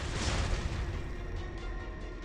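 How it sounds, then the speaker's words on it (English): Flashbang explosion in the Arknights video game: a brief, dense blast followed by a fading noisy rumble, fairly faint overall, with no talk. "Flashbang!"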